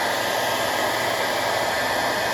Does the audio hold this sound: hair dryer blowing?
yes